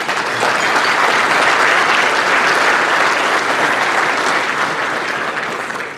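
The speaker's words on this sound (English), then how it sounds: "So how about a preemptive round of applause for all those?" A dense, loud round of applause for the inductees fills a National Softball Hall of Fame ceremony hall. The clapping holds steady for several seconds, then eases slightly at the close.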